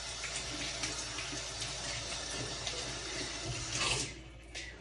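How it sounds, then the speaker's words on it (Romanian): A started cucumber washed under a running kitchen tap, a soft steady stream of water splashing, fairly faint and even, with a slightly louder splash near the end and no voices. "Aici am un castravete început care am să-l spăl."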